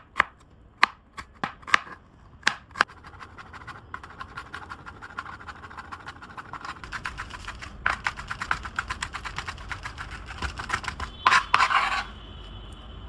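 Onion and garlic are chopped finely: a few sharp, spaced knife taps give way to a quick, steady run of close chopping that ends in a brief scraping burst, with no speech.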